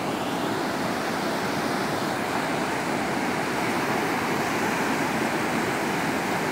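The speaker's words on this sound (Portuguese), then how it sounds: "Essa onda indo e voltando." Ocean surf washing in and out on a beach during a morning walk at Ilha Comprida, a loud, steady roar of breaking waves and rushing water with no voices.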